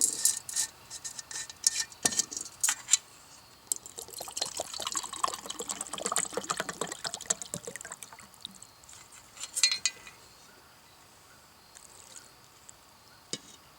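A cup of clean water poured over lard in a bowl for campfire hobo biscuits, a close liquid splash and trickle lasting several seconds amid clinks of a utensil, with no talking.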